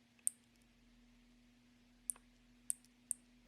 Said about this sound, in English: As the stem moves downward, it pushes down on the bar until it snaps away, giving it that mechanical click.